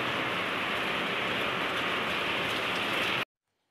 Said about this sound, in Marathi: किती मोठा पाऊस पडायला लागलेला आहे.